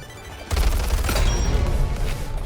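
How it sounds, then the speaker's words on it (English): SMG gunfire in a video game shooter, a sudden loud burst of rapid shots starting abruptly and continuing as a dense, punchy stream of fire for about two seconds. "this feels just like an SMG you would use in an old COD game"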